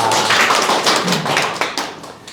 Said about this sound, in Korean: 박수 한번 보냈어